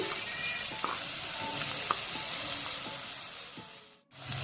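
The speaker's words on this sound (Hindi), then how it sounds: "अब मैं इसमें चिकन का कीमा डाल दूंगी" Minced chicken fries in a pan with lightly fried onions, a steady moderate sizzle with occasional clicks of stirring, cutting out abruptly near the end.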